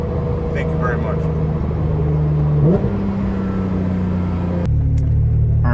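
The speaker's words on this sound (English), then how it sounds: "We've got Dundon exhaust in track mode, and we're about to rip it" Porsche 992 GT3 with a Dundon exhaust in track mode: a close, loud, steady engine drone with a quick upward pitch step midway, then a sudden shift in tone near the end.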